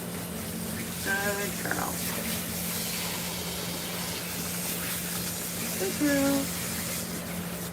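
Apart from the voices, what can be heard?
water sprayed rinsing a long-haired cat during a bath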